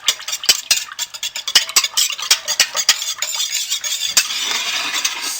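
Soap batter with titanium dioxide being stirred by hand, a steady scraping swish with quick clicks of the utensil against the container, close and continuous with no talking.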